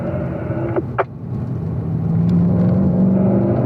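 A Corvette on a race track downshifting to third gear, a loud, steady engine drone heard from inside the car, with a brief dip and gearshift blip about a second in before the engine note rises and holds.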